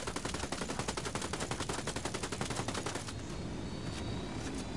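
Automatic weapon fire from the video game Ghost Recon: Wildlands rattles in rapid, evenly spaced bursts, loud and close. The shots end abruptly, leaving a lingering echoing tail and background game ambience.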